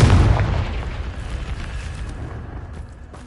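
A Confringo fire spell blasts in the Hogwarts Legacy video game: one loud booming explosion at the start, then a long rumbling tail that slowly fades.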